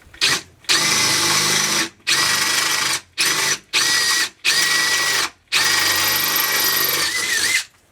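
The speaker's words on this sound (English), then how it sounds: "I'm gonna go in with a 19/64 drill bit" A power drill with a 19/64 bit bores through a bracket hole, its loud motor whine starting and stopping in six or seven bursts of varying length separated by short silences, close up with no talking.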